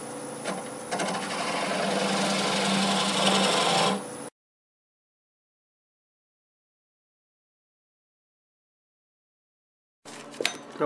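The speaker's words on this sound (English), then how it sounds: "Now I'm going to go to a 3/8 swept-back bowl gouge." A 3/8 swept-back bowl gouge cuts spalted sweet gum on a wood lathe running at about 600 rpm, giving a steady rasping scrape for about four seconds. Silence follows, then a short burst of cutting returns.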